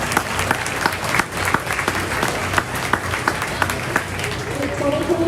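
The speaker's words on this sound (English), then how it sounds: "Let's give all those kids a big round of applause." Sustained audience applause fills a county fair junior beef show arena, a dense steady patter of many hands clapping at moderate distance, with voices mixed in underneath throughout.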